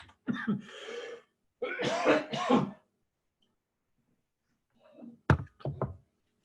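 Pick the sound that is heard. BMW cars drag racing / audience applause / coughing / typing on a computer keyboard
coughing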